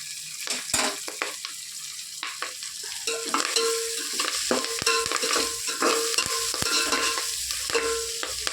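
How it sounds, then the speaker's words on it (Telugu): Carrot and drumstick leaves frying in a pan, a close sizzle under repeated scraping and clattering stirs at an uneven rhythm for several seconds, no talk. "మొదగా కొంచెం పచ్చివాసన పోయేలాగా వేపుకుంటే మనకి పచ్చివాసన అంతగా రాదు"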